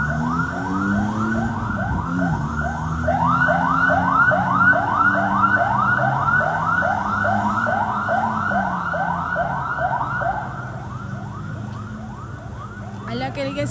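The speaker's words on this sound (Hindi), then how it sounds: "एक एम्बुलेंस तो गई है।" An ambulance siren wails in a rapid rising-and-falling pattern after a blast in Karachi's Defence area, loud and close for several seconds before easing slightly at the end.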